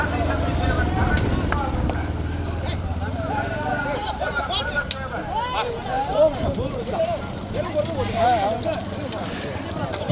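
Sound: horse-drawn cart, hooves clip-clopping

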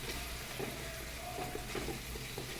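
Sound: sautéing chilli powder in oil for chicken biryani

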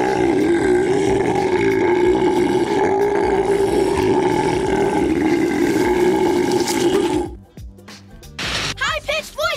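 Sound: belch

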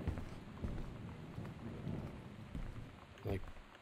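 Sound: rain outside in the video game Gone Home

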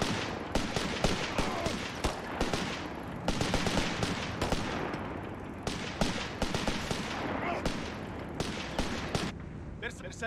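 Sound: small arms gunfire in the video game Company of Heroes 3

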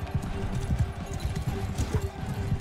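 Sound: horse hooves clip-clopping in video game Mount & Blade II: Bannerlord

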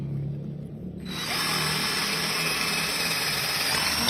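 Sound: cordless drill drilling into concrete

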